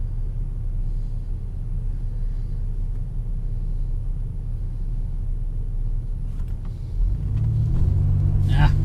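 A 2005 GM car with a 4T65-E automatic transmission and delayed-engagement trouble on a test drive, a steady low engine and road rumble from inside the cabin that swells near the end as it accelerates.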